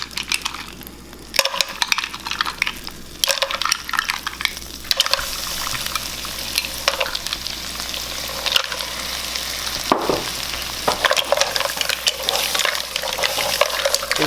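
Garlic and mussels sizzle and fry in a pan for a sustained stretch, with scraping stirs and occasional clinks rising over a steady, fairly loud crackle.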